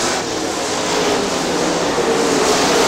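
Super late model race cars roaring around Crystal Motor Speedway in Michigan, a dense steady engine drone heading into a turn, loud and continuous with no distinct passes.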